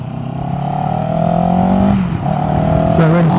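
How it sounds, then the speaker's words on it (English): A car passes close beside a motorcycle rider, its steady engine hum rising and fading against the bike's own drone and wind rush. "Just going to pull in again, let this car go past."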